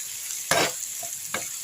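Onions and green chilies fry in a pan for an Andhra-style chili chutney, with two sharp bursts of sizzle as they are stirred over a low background hiss.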